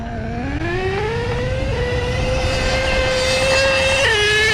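A stock vintage nitro HPI Savage XL K5.9 RC truck with a 3-speed transmission screams at high revs, its buzzing engine pitch climbing through shifts and dipping briefly, loud and close throughout.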